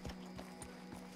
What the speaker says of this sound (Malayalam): ഏ കുതിര ഓടിപ്പോണു.